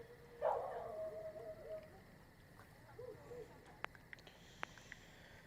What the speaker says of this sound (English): As barking fills the night